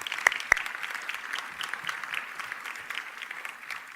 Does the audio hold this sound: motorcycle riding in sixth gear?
no